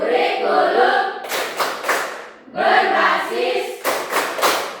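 Rhythmic group hand clapping for a classroom clap chant, bursts of claps alternating with chanted voices in a repeating pattern, loud and close.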